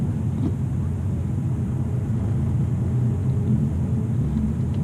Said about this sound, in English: I'm able to just kind of drive through the parking lot real quick just to kind of feel the clutch